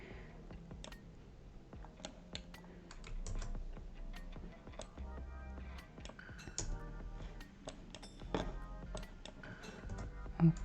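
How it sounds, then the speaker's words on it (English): Computer keyboard typing during a 3D garment design session, a steady run of light plastic key clicks and taps with irregular rhythm, close and fairly quiet, with no speech. "I press C on keyboard."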